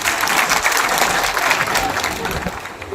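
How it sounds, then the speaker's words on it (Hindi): At a Rajput community mahapanchayat, a large gathering claps for Puran Singh, producing a loud, dense, unbroken roar of applause throughout. "मैं चाहूंगा कि पूरण सिंह जी का तालियां बजाकर अभिनंदन"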